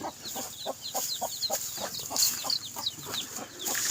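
Several chickens clucking close by in short repeated bursts while competing over feed in the cold early morning, with busy rustling and scratching around them and faint high chirps overhead.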